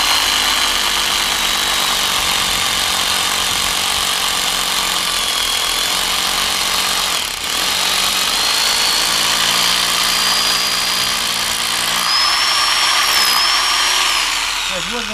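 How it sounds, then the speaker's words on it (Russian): A rotary hammer drills a hole, giving a loud, continuous, close grinding whine that holds steady throughout, with a brief dip midway. "здесь мы начинаем сверлить"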